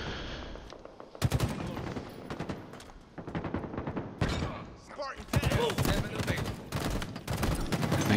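Rocket launcher fire in Halo Infinite rings out amid dense bursts of rapid gunfire and impacts, with a sharp blast near the middle and continuous loud combat throughout.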